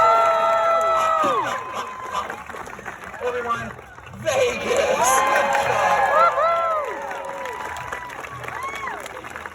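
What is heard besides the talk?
crowd applauding and cheering at falconry show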